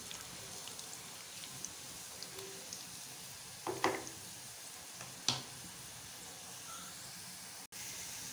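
Onions browning in oil for a dal tarka, a faint, steady hiss and sizzle with a couple of brief clinks of stirring.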